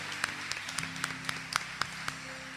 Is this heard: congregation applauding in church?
yes